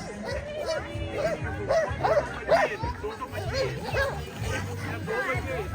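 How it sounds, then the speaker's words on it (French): A herding dog pushes a flock of sheep, giving repeated short yips and barks in a lively rhythm while people talk over it outdoors. "On peut demander au chien de pousser le troupeau"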